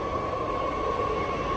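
A BART Yellow Line train bound for Antioch arrives at Powell Street Station in San Francisco, an 8-car train whose steady rumbling roar and faint whine fill the underground platform continuously, with no voices.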